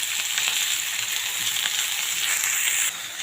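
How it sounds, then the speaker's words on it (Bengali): Onion, green chilli and coriander fry in oil in a pan, giving a steady, loud hiss of sizzling with faint scrapes of stirring underneath, close by and continuous, no talking. "দিয়ে সুন্দর করে নাড়াচাড়া করব, ভাজবো।"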